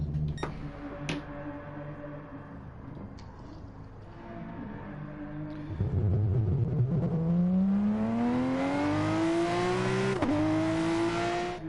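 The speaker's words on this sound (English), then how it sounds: "Well, these cars do certainly sound good on track" GT racing cars at Monza in a racing video game, engines revving and rising in pitch as they accelerate and shift through gears, growing louder midway and staying close and sustained.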